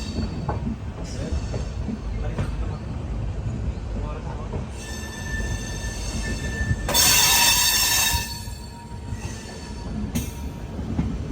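Hampi Express pulling out of Mysuru railway station on a curved stretch of platform, steady rumble of rolling wagons with rising metallic wheel squeal and a sharp loud burst midway, people's voices faintly in the background.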